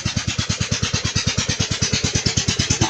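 A broken farm machine's engine runs steadily with a fast, regular chugging pulse, loud and close, with no voices.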